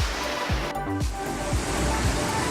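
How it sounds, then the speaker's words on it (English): Atlantic Ocean waves wash through the Queens Baths tide pools on Eleuthera Island in the Bahamas as a steady, loud surf roar with rushing water and no other sounds over it. "This is the Atlantic Ocean."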